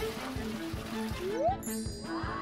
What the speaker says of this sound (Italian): E adesso tiro l'acqua!